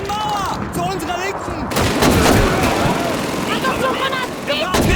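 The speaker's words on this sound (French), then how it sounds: "Une MG42." MG42 machine gun bursts in the Call of Duty 2 World War II shooter, loud sustained automatic fire with battle noise and a French-speaking voice in the mix.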